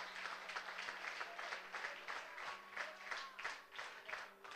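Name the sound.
congregation applauding loudly for God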